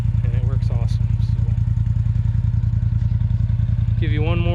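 A custom disk harrow towed by an ATV, its engine chugging loud and steady up close in an even pulsing drone, while someone speaks briefly over it at the start and again near the end.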